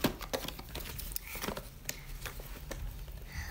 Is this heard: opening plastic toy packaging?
yes